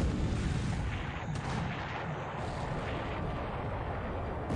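Naval gunfire from the War in the Pacific strategy game booms as a dense, continuous rumbling roar of heavy artillery, steady and fairly loud throughout with no speech.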